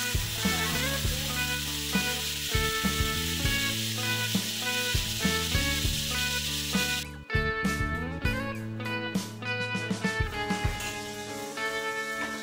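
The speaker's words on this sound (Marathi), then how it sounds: "सो पनीर असे फ्राय झालेले पाहिजेत." Paneer pieces deep frying in hot oil in a pan give a steady, close sizzle that carries on throughout, with brief stirring clatter and no one talking.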